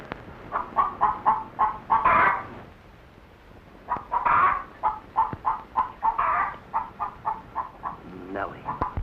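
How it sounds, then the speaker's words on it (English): A hen clucks in rhythmic runs of short, quick clucks broken by louder drawn-out squawks, repeating several times in the 1952 film Jack and the Beanstalk. "Lay, hen, lay."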